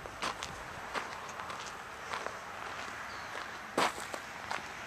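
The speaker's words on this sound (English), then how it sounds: "So we're just walking around." Footsteps walking around a red automatic car with about 200 horsepower, a handful of soft irregular steps over a steady background hiss, with one louder scuff near the end.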